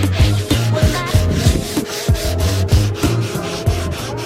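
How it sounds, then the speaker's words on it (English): Body filler on widebody fender flares for a Nissan 240SX being hand-sanded, a steady back-and-forth rasping in close, rhythmic strokes about twice a second, loud and continuous with no talk. "They just need to be sanded down a little bit more on the sides"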